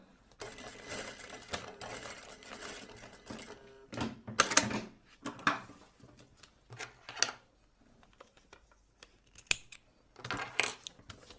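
Sewing a deep V-neck bubu dress from fabric, with a machine whirring in short uneven bursts and light clicks and taps between runs, close and moderately loud with no talking.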